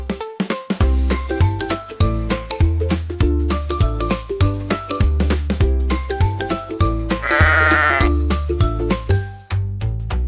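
A bouncy tune with a steady beat plays while a sheep bleats repeatedly in time with it, loud and up front.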